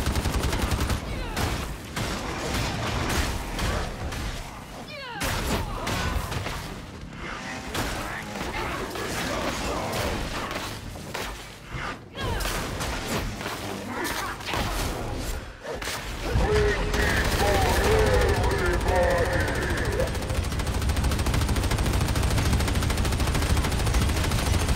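Enemy gunners open fire in the video game Darktide, bursts of gunfire clattering through a chaotic firefight that swells louder and denser toward the end, with a player's voice talking over the action.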